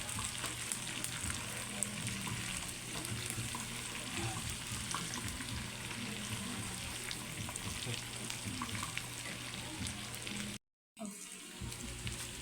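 Pork humba frying and sizzling in its own rendered fat while being stirred, a steady dense crackle throughout with a brief silent break near the end.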